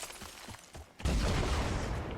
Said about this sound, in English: So that barrel will explode